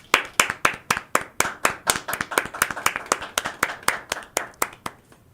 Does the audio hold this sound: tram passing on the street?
no